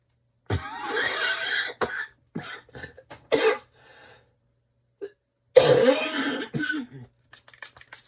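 Repeated coughing and throat clearing in short bursts, close by, with pauses of silence between fits.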